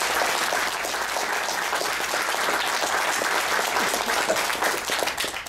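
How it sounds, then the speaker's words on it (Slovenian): A hall crowd at a political party gathering bursts into loud, sustained applause welcoming a parliamentary group, dense clapping holding steady before easing slightly at the end. "aplavz, da pozdravimo"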